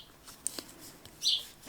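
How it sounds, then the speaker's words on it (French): Small birds chirp at a windowsill in a few brief, high, faint tweets scattered across a quiet room, with a slightly louder burst of chirping near the end. "J'ai le bonheur d'avoir des petits oiseaux qui viennent sur le bord de la fenêtre, c'est merveilleux"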